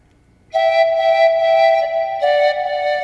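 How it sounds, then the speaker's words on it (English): Breathy synthesized Peruvian panpipes from Logic Pro 10 play a short phrase of a few sustained notes, clear and close, with no voices. "Peruvian panpipes, and they sound like this."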